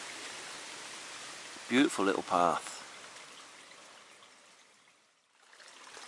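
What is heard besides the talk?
water running down a hill path like a stream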